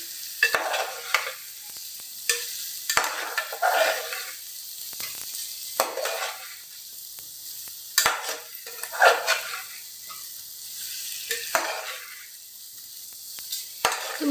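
Eggplant bhaji being stirred in a pan over a low flame, giving soft, repeated scraping swishes over a faint sizzle, close up with quiet pauses between strokes.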